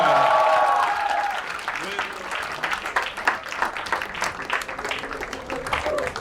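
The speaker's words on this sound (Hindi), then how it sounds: "मैं जोरदार तालियां बजानी शुरू करना चाहता हूं" Loud, sustained audience applause at a comedy crowdwork show, many hands clapping at once, steady throughout with voices mixed in.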